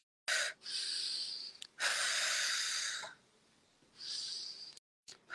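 Someone breathes out heavily in three long, forceful exhalations separated by short pauses. The breaths are very close to the microphone and loud and breathy, with no speech.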